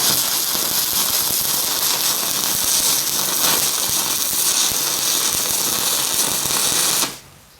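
Stick welding with a 7018 electrode while repairing a cracked double tree, a steady, dense crackling buzz that carries on without pause for about seven seconds, then cuts off abruptly.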